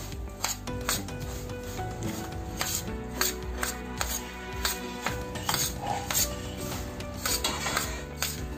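Sesame laddu mixture with cardamom being stirred and mixed by hand in a vessel, a close run of irregular rubbing and scraping strokes with light knocks, steady and fairly quiet with no voices.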